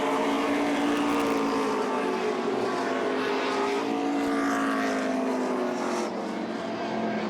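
Stock car engine firing up during the 2003 Oxford 250 short-track race, a loud sustained roar with rising and falling pitch that fills the whole stretch, no voices over it.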